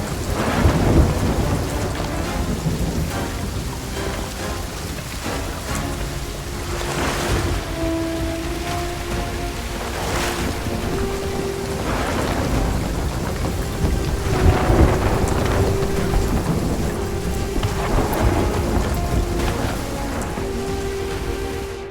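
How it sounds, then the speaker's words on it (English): A heavy storm in the pirate video game Sea of Thieves, with steady loud rain and several deep rolling thunder rumbles over continuous noise. "Callisto's lightning cracked the spire."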